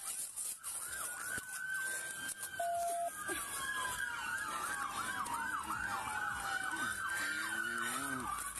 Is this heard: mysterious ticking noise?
no